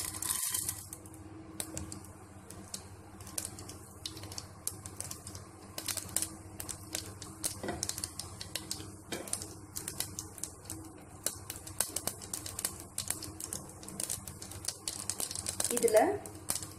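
Mustard seeds and urad dal spluttering in hot oil while rice sojji is prepared, a steady scatter of small pops and crackles under a low background hum, with light speech briefly present.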